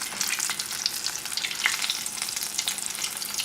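Popcorn shrimp, Creole style, sizzling in hot vegetable oil: a dense, continuous crackle with scattered sharp pops, close and steady throughout, no voices.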